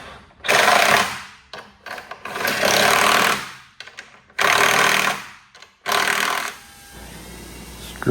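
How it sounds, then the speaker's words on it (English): A power driver screws a cabinet protector onto a pinball cabinet in loud, close bursts of whirring and rattling, four main runs separated by short pauses, with quieter handling noise near the end. "Screwing that cabinet protector into the cabinet"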